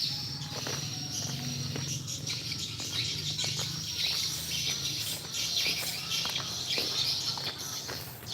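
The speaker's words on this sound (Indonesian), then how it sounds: "suara burung-burung pun masih banyak berkicauan." Birds chirping at the foot of Mount Rinjani, scattered short tweets over a faint insect hum, with footsteps crunching nearby; fairly quiet outdoor ambience.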